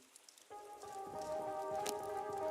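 Rain falls in a steady, close patter, joined after a moment by a constant humming tone that carries on beneath the drops.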